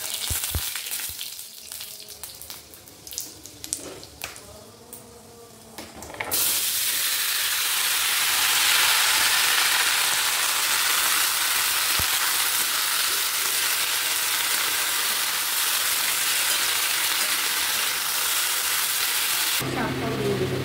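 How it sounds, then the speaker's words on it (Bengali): Five-spice seeds hit hot oil in a home kitchen, bursting into a loud, steady sizzle that runs on without pause after a stretch of quiet talking at the start. "এই যে তেল দিয়ে দিয়েছি, গরম হয়ে গেছে, 5 ফোড়ন দিয়ে করবো।"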